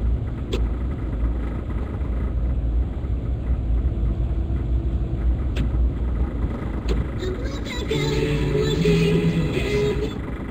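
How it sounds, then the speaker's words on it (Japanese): A car drives through the Yanagisawa tunnel on Route 17 with a steady, close, low rumbling rattle throughout, a few sharp knocks, and faint tonal sounds entering near the end. "なんか車ガタガタ言ってるの？"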